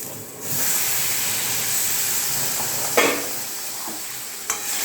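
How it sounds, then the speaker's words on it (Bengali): Water poured into a hot pan of fried jackfruit with ground spices, giving a steady loud sizzle and steaming hiss with a couple of brief sharper spurts. "জল দিয়ে দিচ্ছি"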